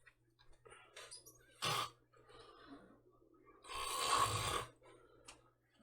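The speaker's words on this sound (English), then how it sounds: "Snoring's getting louder and louder" A person snoring, with a few faint breaths, one short snort, and a longer, louder rasping snore, heard alone in a quiet room.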